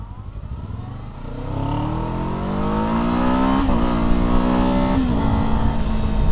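A Kawasaki Z7 Hybrid motorcycle accelerates hard, its engine note climbing steadily in pitch with a couple of brief shift dips before climbing again, loud and close with no speech.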